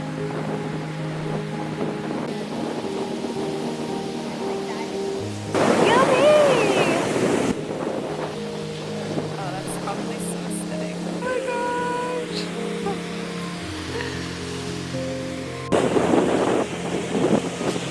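Wind buffets the microphone at a beach on Kaua‘i as surf rolls in, a steady rushing roar with louder gusts, and faint voices and other sounds mix in now and then.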